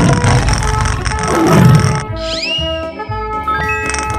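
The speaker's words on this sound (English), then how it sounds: "Tiger." A loud cartoon tiger roars in an animated paint-and-animals transformation, a rough growl over busy background music, then fades to music and a rising swoop.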